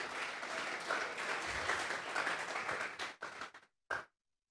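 A church congregation claps in praise during a sermon, thick sustained applause filling the hall before thinning out and cutting off abruptly, with a last short burst before silence.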